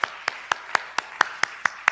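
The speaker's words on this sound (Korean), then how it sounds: "자, 우리 박수." A church congregation claps in a steady, even rhythm for the praise team, nine sharp claps spaced about a quarter second apart, crisp and fairly close with no talk over them.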